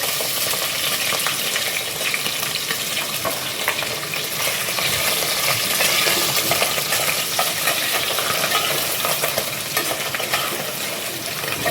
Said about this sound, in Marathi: तर मी इथे बकऱ्याची जी चरबी आहे ती मी टाकून घेणार आहे